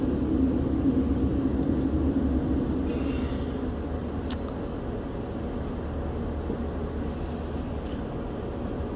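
A train pulling into Falmouth Dock station on the Maritime Branch line in Cornwall, with a steady loud rumble of the carriage and high wheel squeal near the start and in brief bursts later, heard from on board.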